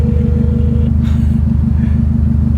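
A 2018 Subaru STI's turbocharged engine rumbles steadily from inside the car while driving, a loud, constant low drone with little change in pitch.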